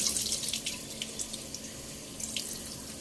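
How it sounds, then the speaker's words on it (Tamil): Kitchen tap water runs steadily into a sink while raw chicken is rinsed, a continuous close splashing stream with no talk. "திரும்பவும் நான் ஒரு வாட்டி எதுக்கும் வாஷ் பண்ணிக்கிறேன்"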